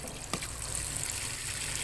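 Tap water runs steadily and fairly weakly from a faucet at a laundry washing area, a continuous hiss and trickle heard alone at moderate, close range.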